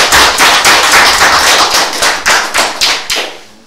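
Loud audience applause in rhythmic unison, with about a dozen strong, evenly spaced clap bursts that slow slightly and end abruptly.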